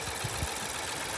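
A used car offered for sale idles with a steady, low engine rumble, broadband and unchanging throughout, heard alone at close range with no talking.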